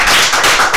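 Applause from an audience at an end-of-year concert, a brief burst of dense, steady clapping that fills the whole moment with no voices over it.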